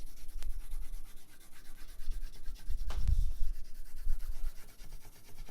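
A pencil sweeps broad, fat lines across paper in close, continuous soft rubbing strokes, steady and fairly quiet, with no one talking.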